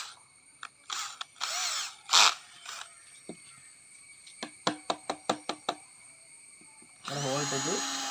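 A power drill bores a hole for a homemade reflecting telescope in several short whining bursts, then a run of quick clicks and a longer final burst, all close.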